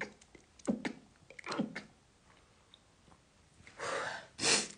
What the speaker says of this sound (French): je vais encore éternuer, je suis désolée.